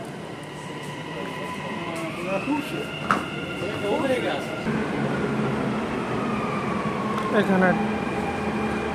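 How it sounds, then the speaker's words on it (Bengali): A metro train standing at an elevated station hums and whines steadily as it prepares to leave, with faint clanks and a rising tone, while a voice briefly speaks nearby. "এই যে এটা একটা মেট্রো, এখন চলে যাবে এটা।"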